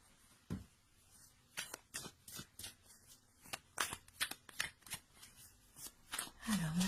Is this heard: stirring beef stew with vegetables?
no